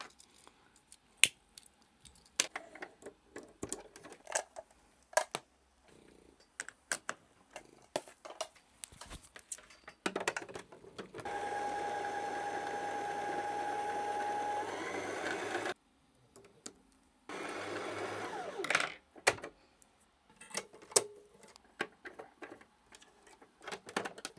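Sewing machine winding a bobbin for a lace garter belt project: a steady continuous whir lasting several seconds, briefly stopping and restarting, set between scattered clicks and handling noises.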